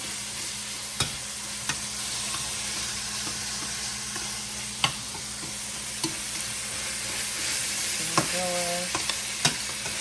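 Ground lamb fries in a pan with a steady close sizzle and hiss, broken by occasional sharp clicks and scrapes of a utensil stirring the meat; no one speaks.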